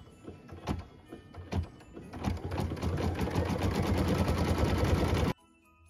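A home embroidery machine stitches a dark green tack-down line on felt for a Christmas tree skirt wedge: a few short stitch bursts, then a steady, close rapid mechanical chatter for several seconds before it stops abruptly.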